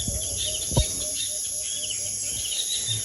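Faint bird chirps and calls drift over a steady, high insect-like hum in an outdoor setting.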